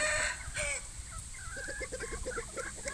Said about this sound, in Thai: วันนี้ก็มาให้ดูครับลูกไก่ตัวนี้ครับ เป็นลูกไก่ประมาณสักห้าเดือนนะครับ